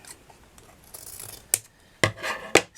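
Scissors snip through thin craft material for a ribbon rose, a few sharp close cuts spaced out, the last three crisp and distinct after some faint rustling.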